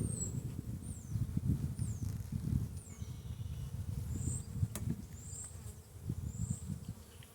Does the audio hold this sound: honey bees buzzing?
yes